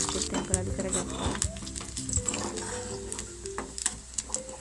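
Whole spices tempering in hot oil for a village-style bean seed curry, a steady dense sizzle and crackle with occasional stirring scrapes, close and continuous throughout.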